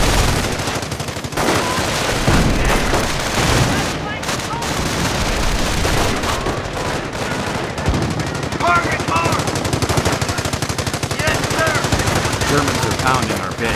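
Infantry gunfire pouring onto a base in Company of Heroes: sustained loud machine-gun bursts and rifle shots overlapping in heavy, continuous fusillade, with scattered booms and faint battle chatter mixed in.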